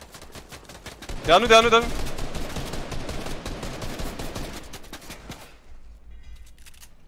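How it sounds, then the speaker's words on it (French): Rapid gunfire bursts crackle close in a winter battle royale video game match, loudest in a short flurry before fading to scattered shots, with players talking over the action. "On me tire dessus."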